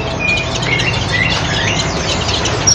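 A male cucak kinoi songbird chirps in brief, high whistled notes several times over a steady background hiss, fairly close and clear.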